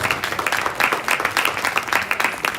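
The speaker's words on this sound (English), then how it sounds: "Another round of applause for us." An audience at a technology forum breaks into a short burst of applause, dense steady clapping filling the room for a couple of seconds.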